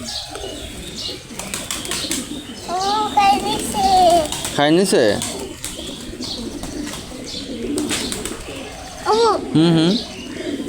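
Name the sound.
pigeons cooing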